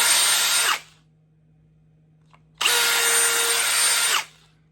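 A DeWalt DCD806 power drill whirs loudly in two bursts, running about a second and then nearly two seconds, with a quiet pause between.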